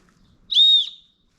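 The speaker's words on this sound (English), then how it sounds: "That's the whistle on the day bag." One short, shrill blast from a backpack safety whistle on an Osprey Daylite day bag, loud and close, rising sharply and fading after about half a second in an otherwise quiet space.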